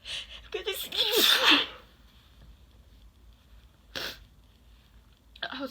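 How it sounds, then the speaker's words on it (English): One person lets out a single loud, close sneeze near the start, followed by quieter breathy sounds and a short burst later on. "I'm gonna sneeze."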